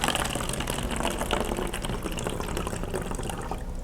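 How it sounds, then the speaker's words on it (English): Water poured into a bottle for a homemade lava lamp, a continuous splashing, bubbling stream that runs steadily and fairly close without any talk. "I like to start by adding a little water to the bottle."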